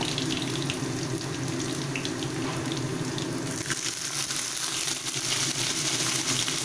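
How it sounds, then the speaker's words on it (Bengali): Chopped onions hit hot oil already seasoned with slit green chillies and garlic for a dried fish and vegetable curry, giving a loud, continuous close sizzle that holds steady throughout. "এবার আমি এতে দিয়ে দেব পেঁয়াজ কুচিগুলো।"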